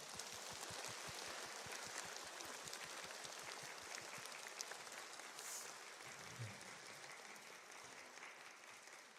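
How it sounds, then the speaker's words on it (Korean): A congregation applauds during a Thanksgiving church service, a steady, dense wash of clapping lasting throughout with no speech over it. "우리 하나님께 큰 감사 박수 한번 드리겠습니다."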